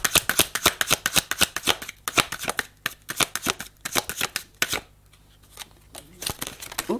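Tarot cards being shuffled for a reading: rapid, crisp riffling bursts in quick succession for nearly five seconds, a brief lull, then a few more flicks near the end, close and clear without speech.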